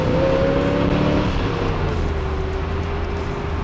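A 1969 Corvette coupe's original 350 hp V8 with a Rochester carburetor held at high revs around 5,000 RPM, a loud steady engine roar that eases slightly in pitch toward the end.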